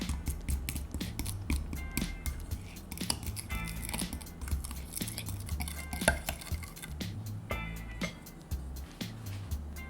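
A utensil mixes chicken batter with all-purpose flour and baking powder in a bowl, making quick irregular clicks, taps and scraping knocks at close range with no talking.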